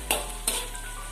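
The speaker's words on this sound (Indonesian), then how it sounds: "Goreng sardin ini, okey, jangan terlalu goreng, okey." Sardines fry in a pan for a Malaysian salted fish curry, giving a quiet, close sizzle with two sharp crackling spatters over a faint steady hiss and no talking.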